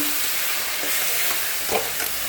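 Ground spice paste frying in a pan with a steady, dense sizzle throughout, close and loud, with a brief stir or scrape partway through and no talking.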